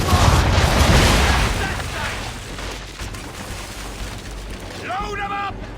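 Ship cannons firing in a naval battle in Assassin's Creed III, a heavy rumbling barrage that booms loudly at first and then fades into a lingering roar, with a faint voice near the end.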